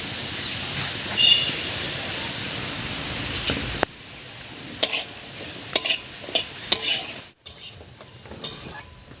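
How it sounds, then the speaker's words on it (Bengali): Black gram lentils dry-roasting in a wok, stirred with a spatula in quick bursts of scraping and rattling over a soft steady hiss, the strokes growing sharper and more frequent toward the end. "এবার শুকনো খোলায় আমি মাছের ডালটা ভেজে নেব"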